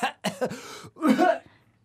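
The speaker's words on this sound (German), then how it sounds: "dann räuspere ich mich dann so" A person clears their throat with a few short, rough bursts followed by a longer raspy one, close and alone.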